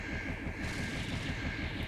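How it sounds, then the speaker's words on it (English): Sigma, the villain of Mega Man X4, blows apart in a gigantic video game explosion, a dense continuous roar of rumbling booms and crackle at steady loudness with no pauses. "for the fourth time in the series, blows up in a gigantic explosion"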